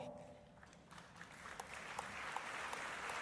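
Audience applause rises at an environmental prize ceremony, faint at first and swelling into a broad, steady wash of distant clapping with no talk.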